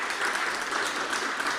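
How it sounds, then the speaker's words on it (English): Audience applause at the close of a climate accelerator demo day pitching session, a steady dense wash of clapping from a crowd throughout, moderately loud and without any talking. "Let's give them a big round of applause."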